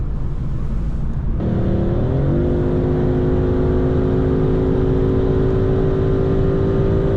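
A 2017 Ford Mustang GT's 5.0-litre V8 running on LPG revs up and holds a steady, droning roar, its pitch rising and then settling into a sustained high rev for several seconds.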